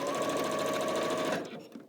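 A sewing machine stitches quilt block pieces together for Churn Dash and Wedding Ring sampler blocks, a fast even whirring run that stops abruptly near the end, leaving brief quiet handling noise.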